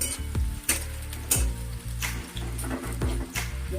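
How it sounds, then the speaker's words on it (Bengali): Onion and garlic sizzle steadily in a hot pan with a close, continuous frying hiss, broken by a few sharp clinks and scrapes as the pieces are stirred. "ভালো করে ভাজা হয়ে গেছে, এবার পেস্টটা দিয়ে দেবো।"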